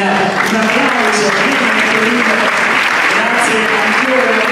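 Audience clapping at a fashion event, a continuous loud patter of hands with voices talking over it throughout.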